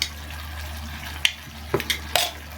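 Stirring sugar into sweet and sour sauce in a pan for dory fish, with a few scraping clinks of a utensil against the pan over a low steady hum.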